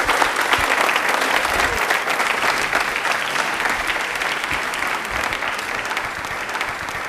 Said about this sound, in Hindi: ताली एक बार जोरदार हो जाए।